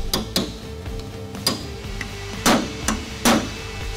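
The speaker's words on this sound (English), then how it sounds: "Remove the rivets from the basket assembly using a punch and hammer." A punch struck with a hammer drives rivets out of a Rekluse clutch basket assembly for a Harley M8 or Twin Cam, giving several sharp metallic knocks at an uneven pace, close and clear with no talking.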